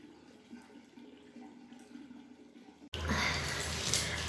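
Tap water gushes loudly into a sink for face washing, starting abruptly near the three-second mark after a quieter stretch of room noise, then running steadily and close until the end.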